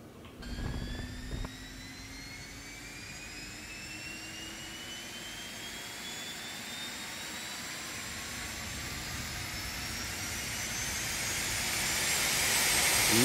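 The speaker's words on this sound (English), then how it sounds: "Right engine is now starting." The right jet engine of a Phenom 300 in the X-Plane 11 flight simulator spools up from a click into a rising whine and hiss, pitch climbing steadily and growing louder over thirteen seconds.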